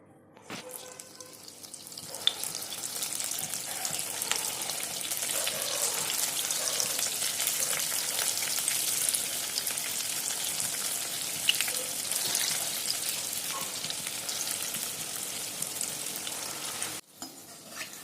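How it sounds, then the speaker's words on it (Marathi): Lentil vadas for dahi vada deep-fry in hot oil over a low flame, producing a steady, loud, continuous sizzle and bubbling that holds for the whole stretch and cuts off abruptly near the end, with no one talking. "याच पद्धतीने संपूर्ण वडे तळून घ्यावेत"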